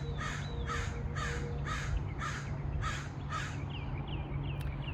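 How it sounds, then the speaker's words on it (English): A crow caws seven times in a regular, evenly spaced series, loud and fairly close, followed by a few softer calls over a steady low outdoor hum, with no talking. "I guess this bird wants to be in my video"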